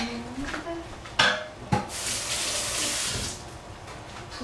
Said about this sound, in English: Put some water in.